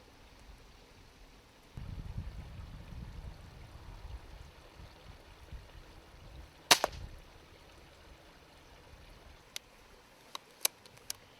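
A single sharp air rifle shot at rats beside a pond at night, a brief crack partway through, with faint outdoor background and a few small ticks afterward.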